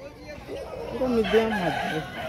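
An Aseel rooster crows in one drawn-out call at a village poultry market in Kashipur, close and fairly loud, amid market background noise and nearby voices.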